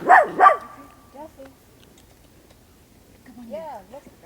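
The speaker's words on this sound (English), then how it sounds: "And now we have a doggy interruption." A dog barks twice close and loud, then gives a few softer whines and yips, with a voice speaking over the later part.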